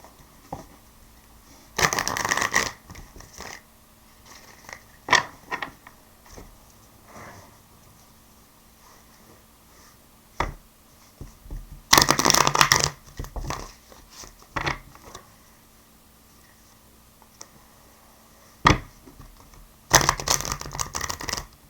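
Tarot cards being shuffled in several separate bursts, close and crisp, with quiet pauses and small handling clicks between them and no talking.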